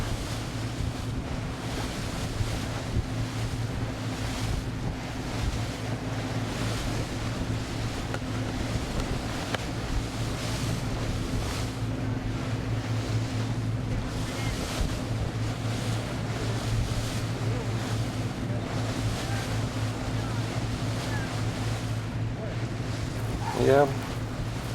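Wind at sea during The Ocean Race Europe prologue start off Klaipėda, about 10 to 12 knots: steady rushing wind noise and wash of water around a sailing boat, continuous with a low engine-like drone beneath.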